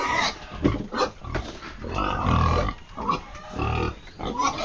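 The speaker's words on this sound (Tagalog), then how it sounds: "Yan, papakainin na ni na Kuya Kabungot yung baboy." Pigs at a farm pen grunt and squeal while being fed, a close, loud run of rough grunts and snorts with brief pauses and jostling noises.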